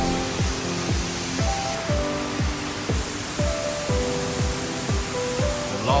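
Indoor waterfall at a Christmas wonderland attraction gives a steady, broad rushing hiss, overlaid by a loud repeating series of short descending electronic tones about twice per second.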